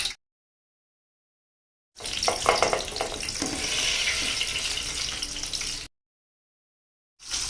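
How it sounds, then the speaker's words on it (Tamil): Tomatoes dropped into hot sesame oil for pickle, a loud, steady sizzle and crackle lasting about four seconds after a silent gap, then cutting off before another burst begins, close and alone. "தக்காளி வதக்கிறதுக்காக ஃபஸ்ட்டு இப்போ எண்ணெயில் சேர்த்துடுறோம்."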